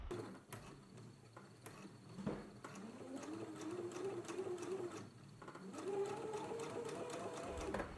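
A home sewing machine stitches a t-shirt sleeve seam, its motor whirring in steady runs with a rising hum that pauses briefly and resumes, close and quiet.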